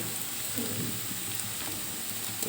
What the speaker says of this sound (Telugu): కొంచెం ఎర్రగానే వేగింది ఇలా వేయించేసుకోవాలి